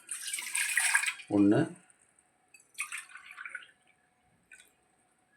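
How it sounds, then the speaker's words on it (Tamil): Two tumblers of water poured into a pot on a stove for cooking millet, short splashing bursts near the microphone, separated by quiet pauses, with one brief spoken word between them. "2 டம்ளர் தண்ணி ஊற்றிட்டேன்."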